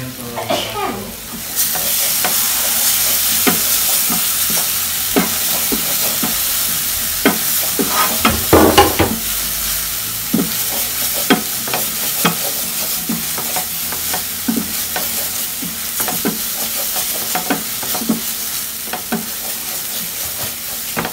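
Spice paste stir-fries in a Kangaroo-brand pan, a loud continuous sizzle with frequent sharp spatula scrapes and taps throughout, no voices.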